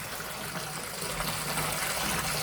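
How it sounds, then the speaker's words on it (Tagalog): Water pours steadily into a pool filter tank, a close, even gushing rush that swells slightly toward the end, with no talking. "Maglalagay po ako ngayon ng tubig dito."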